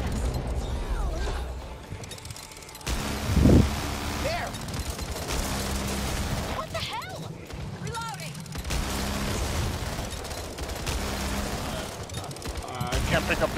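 A howitzer fires in the zombie shooter Back 4 Blood, a deep booming shot amid ongoing game noise and scattered gunfire while a player talks over the action.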